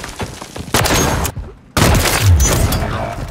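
A gun in a video game fires loud, rapid bursts up close, then pauses briefly before a second heavy volley.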